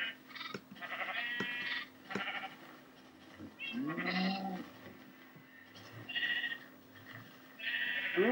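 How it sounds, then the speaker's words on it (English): Sheep in Minecraft bleat repeatedly, several wavering calls of differing pitch, some higher like a lamb, spaced over several seconds with short clicks between them and no speech. "Oh yeah, baby sheep."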